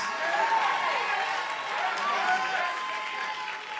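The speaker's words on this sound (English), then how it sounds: "And somebody ought to clap and shout yes." Congregation at a COGIC church service claps and shouts in a steady, dense wash of noise that holds at full strength, with no clear speech over it.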